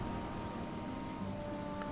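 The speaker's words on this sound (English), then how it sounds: "So we have rain" Steady rain hiss from the video game Book of Hours, an even, unbroken wash of patter with faint scattered drops, alone and at low volume.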